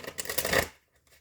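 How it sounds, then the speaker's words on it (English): A short burst of cards being shuffled, a quick papery riffle lasting under a second before falling quiet. "We'll give it one more good shuffle."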